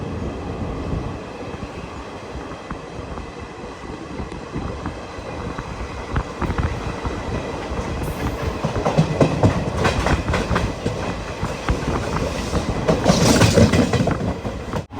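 An Indian passenger train pulls out of Kasaragod railway station in Kerala, bound for Mangaluru Junction. Its steady rumble and rhythmic clickety-clack of wheels on rails build gradually louder, heard from inside the coach with no talking.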